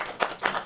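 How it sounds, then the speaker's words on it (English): An audience applauding, heard as a short burst of a few sparse, distinct claps spaced at a loose rhythm. "I think that deserves a round of applause."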